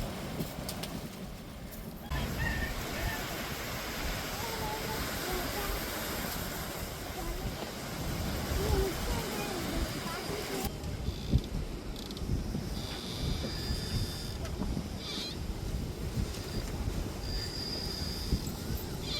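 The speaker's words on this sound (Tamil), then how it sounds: "பாருங்க அடிக்கிற காற்றை எப்படி அடிக்குதுன்னு பாருங்க" Strong wind roars steadily and loudly throughout, buffeting with gusty rumble and no pauses.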